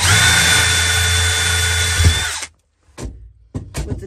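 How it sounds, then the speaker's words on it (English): A power drill whines steadily for about two and a half seconds, then stops abruptly; brief quieter clatter and handling noises follow. "Then drill a hole"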